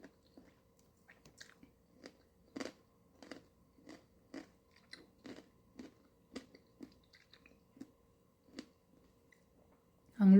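Crispy dumplings and puto corn eaten at a late-night meal, heard as a string of sharp, close crunching bites and chewing, spaced irregularly over several seconds in an otherwise quiet room.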